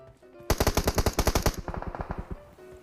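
Automatic gunfire from the mobile battle-royale game PUBG Mobile: a rapid, loud string of about a dozen sharp shots, followed by a slightly softer second burst that trails off.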